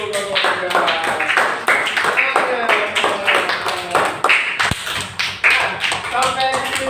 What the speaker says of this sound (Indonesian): Tepuk tangan dulu untuk kelompok.